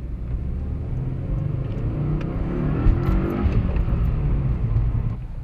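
A BMW 328xi passes on a street, a steady low engine rumble and road noise that swells slightly in the middle then settles, heard from a moderate distance with no voices.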